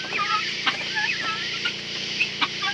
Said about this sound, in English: Now the birds are getting noisier.